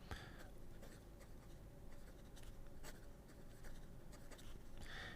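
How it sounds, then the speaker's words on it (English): An ADMOC fountain pen with a steel nib scratches steadily across paper, a soft continuous scraping with brief strokes and taps, close and quiet with no voices. "Look at the juiciness of this nib."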